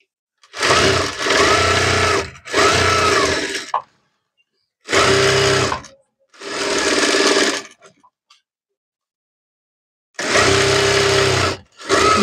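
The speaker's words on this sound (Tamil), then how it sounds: "அப்படியே ஒரு ஸ்டிச்சிங் போட்டுடலாங்க. லைனிங்கும் மேல் துணி அப்படியே அட்டாச் பண்ணி" A sewing machine runs in four or five loud bursts of rapid stitching, each lasting one to two seconds with short silent gaps between them, as it joins a blouse lining to the outer fabric.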